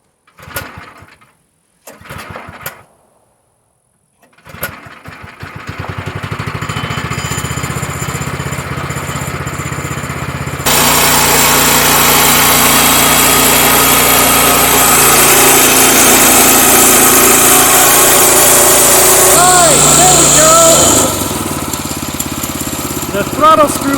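The small gas engine of a Woodland Mills bandsaw mill sputters through a few start attempts, then catches and runs loud and steady, rising in pitch as the blade cuts, with someone talking at times.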